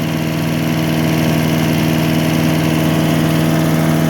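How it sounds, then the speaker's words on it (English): A Tecumseh 3.5 HP engine on an MTD chipper shredder with a rough carburetor runs steadily at a loud, close, even idle, its droning hum continuous throughout without any voices. "It's running pretty good for as rough as the carburetor is."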